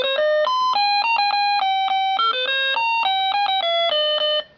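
Alarm clock playing an electronic wake-up melody, a clear run of bright beeping notes in a steady tune, loud and close with no talk, ending abruptly.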